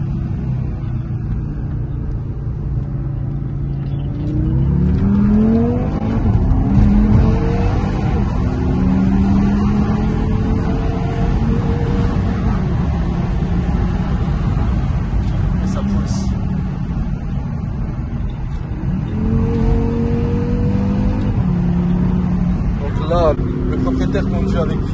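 Audi RS3 8V engine revving and accelerating in sequential mode, a loud sustained roar with rising pitch sweeps and gear changes, steady under continuous talk throughout.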